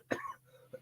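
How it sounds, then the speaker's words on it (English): A single short cough from a person, close but fairly quiet, followed by a softer throat sound a moment later. "I cough."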